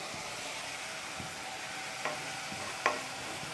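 Softened onions and spices sizzle steadily in a pan as fish oil goes in, with a couple of light stirring knocks over the continuous hiss, close up and with no voices.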